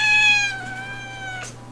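A kitten gives a single clear, close meow with a falling pitch, followed by a softer tail, over a steady low background hum.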